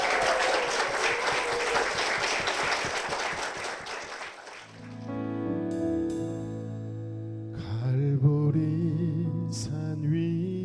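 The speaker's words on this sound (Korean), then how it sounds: "우리 두 분께 힘찬 축복의 박수 부탁드리겠습니다" Congregation in a church gives a burst of blessing applause that fades out after about five seconds, followed by sustained keyboard or organ chords beginning a hymn.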